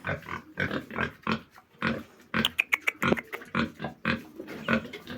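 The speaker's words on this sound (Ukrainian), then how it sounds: "Так, хрюкають свині, зараз і до свиней підійдемо." Three-month-old pigs grunt and squeal repeatedly at close range in a farmyard, a busy run of short snorts and higher squeals overlapping one another.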